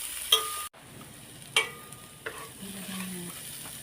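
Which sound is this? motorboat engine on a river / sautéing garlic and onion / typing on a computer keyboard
sautéing garlic and onion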